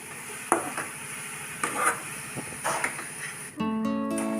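A coconut barfi mixture with cardamom powder is stirred in a pan over low heat, with soft scraping strokes and faint sizzling. A steady tonal hum enters near the end.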